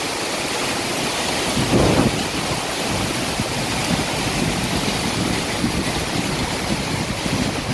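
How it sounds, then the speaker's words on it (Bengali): A storm outdoors with strong wind and rain, a continuous loud roaring wash of gusts and downpour heard close, with no voice over it. "দেখুন অনেক ঝড় বাতাস হচ্ছে"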